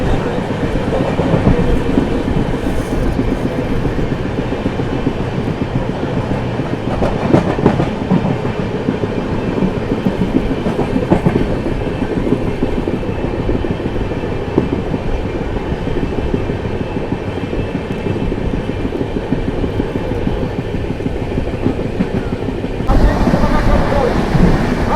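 A Vande Bharat express train overtakes the Archana Express, a loud continuous rush of rail noise with rhythmic clickety-clack and wind buffeting heard from aboard, steady for the whole stretch.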